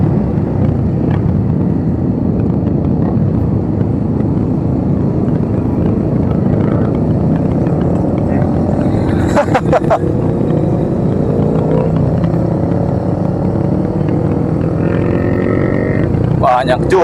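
Steady, loud roar of many motorcycle engines riding together at a Honda CBR track day at Trans Studio Makassar, with a constant rumble, wind noise and a few higher whines and clicks late on.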